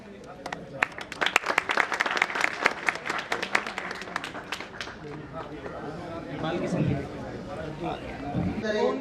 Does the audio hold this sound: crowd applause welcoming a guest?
yes